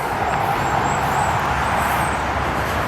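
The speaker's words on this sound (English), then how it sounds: "You can perhaps see or hear the cars, it's not far away." Steady traffic from cars on a nearby road beside a church graveyard, a continuous broadband roadway hum with no single vehicle standing out and no talking.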